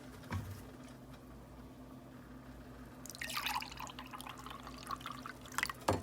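Chilled grapefruit juice is poured into a glass, a quiet trickle and splash that swells midway and continues with light drips, faint and close, with no talk over it.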